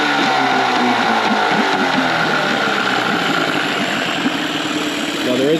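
A Mercury outboard motor idles in a water-filled test bucket. It runs loud and close, with a steady throbbing rumble and rattling vibration throughout, and no voices are heard.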